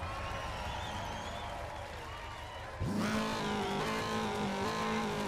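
Race car drifting in the racing video game GRiD, with a steady engine drone that jumps into a louder, rising high-revving roar halfway through as the car slides.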